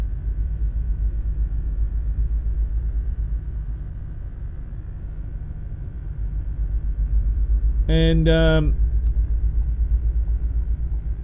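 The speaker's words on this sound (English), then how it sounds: "it's definitely a lot of fun driving around" Scania S730 truck engine in Euro Truck Simulator 2, a steady low rumble of a heavy diesel cruising throughout, with a brief voice cutting in near the end.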